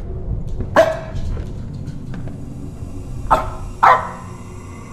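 A dog in a horror video game barks a few sharp times at moderate distance, one bark then a close pair, over a low rumbling ambient bed with no talking.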